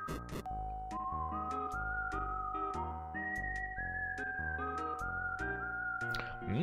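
A steady high whistling tone rings without break through the Super Famicom video game Gunman's Proof, sitting under a stepping chiptune melody with percussive ticks.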